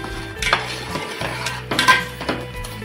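Garden cress seeds (haleem) are stirred as they cook in a pan. A spoon scrapes and clinks against the metal in several quick strokes, with a faint sizzle underneath.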